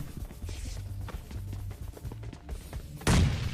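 Gunfire in PUBG Mobile Lite as two teams clash: scattered soft shots and footsteps, then a louder burst near the end, all fairly faint.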